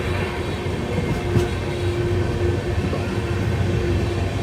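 A Nagpur metro train passes at a distance, a steady rumbling roar of rail wheels heard from inside a moving express train, continuous and fairly loud throughout with no voices.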